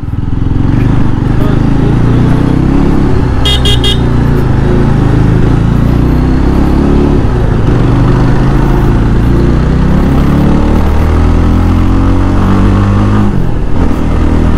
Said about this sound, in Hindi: अभी बाइक का होगा ऑफ रोड टेस्ट।